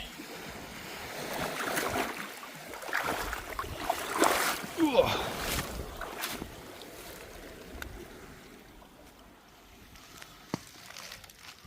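Ocean water at night along the rocky Falmouth coast in Cornwall washes and sloshes among the rocks in irregular surges, with wind gusts and faint, distant voices.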